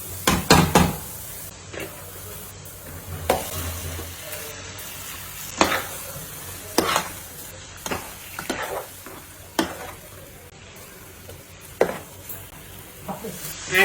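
Fish pieces drop into a hot pan of curry base and sizzle, followed by scattered knocks and stirring clatters of a utensil against the pan, with irregular bursts over a steady frying hiss.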